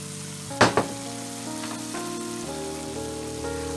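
Pasta sauce pours onto browned ground beef in a hot pan for a mac and cheese style dish, giving a sharp splash and then a steady close sizzle that keeps going without any voices.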